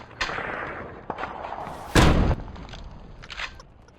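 A concussion grenade in the browser shooter War Brokers, detonating as one loud, deep blast near the middle, surrounded by quieter thuds and the muffled hiss of in-game movement.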